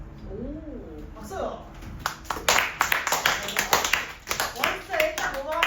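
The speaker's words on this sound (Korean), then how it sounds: "오, 박수." Students in a Korean middle-school grammar class clap, a burst of quick, close hand claps starting after a teacher's speech and continuing in a ragged series, with voices talking around it.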